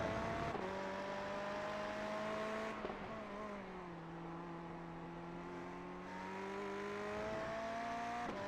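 A BMW GT race car chases a Ferrari during a GTD Performance Series round, its engine droning loud and steady with gear-change pitch shifts, faint and distant in tone.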